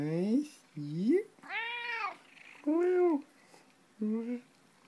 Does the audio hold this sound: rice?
no